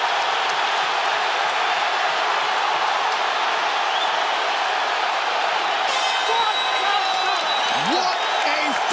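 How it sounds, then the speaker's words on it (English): Arena crowd at the Barclays Center roaring and cheering through a dense, sustained wall of noise after a wild mixed martial arts fight, with whoops rising near the end and a commentator talking over it. "They are standing and cheering at Barclays Center"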